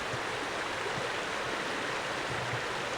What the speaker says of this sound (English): This part of the creek is right in front of the cabin.